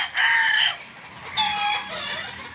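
A fighting rooster crows twice, loud and close, the first call long and drawn out, the second shorter and trailing off, with quiet farmyard ambience between.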